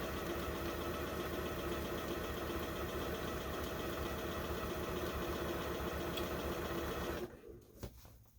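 A sewing machine stitches a quilt top at a slow, steady pace, a continuous close mechanical whir that runs for about seven seconds and then stops.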